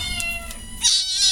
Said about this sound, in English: Hi there, pretty little kitty.